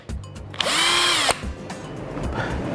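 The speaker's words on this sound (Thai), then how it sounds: "วันนี้เราใช้สว่านแบบไร้สายนะครับ" A cordless drill drives a number seven self-drilling screw while a Conwood Modern eave board is installed. A steady high whine runs for under a second, then stops, close and loud.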